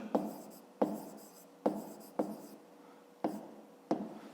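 Pen or chalk strokes from writing out a fifth-grade math solution, heard as a series of six distinct taps and short scratches spaced irregularly, close and fairly quiet with no voices.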